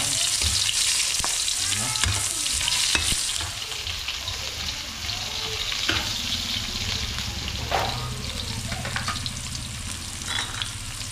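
Garlic and onion sautéing in hot cooking oil in a home kitchen, a steady loud sizzle and fry running throughout with occasional stirring scrapes and clatters, no talking.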